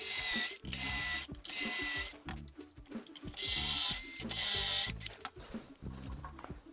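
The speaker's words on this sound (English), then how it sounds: "With that, we're ready to drill." A power drill bores mounting holes through a Roxbo jig into a snowboard for a 22 Designs Outlaw X binding, whirring loudly in several sustained bursts separated by brief pauses.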